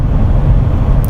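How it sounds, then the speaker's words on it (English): A patrol car's engine and road noise while driving, a loud, steady rumble filling the whole moment with no talking. "excuse the background noise, I'm driving right now, I'm out patrolling"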